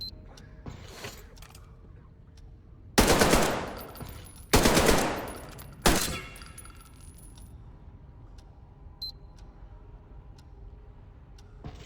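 A .45 automatic pistol test-fired on a range in the video game Metro Exodus, with three loud, close bursts of gunfire separated by pauses over quiet mechanical clicks and ambience.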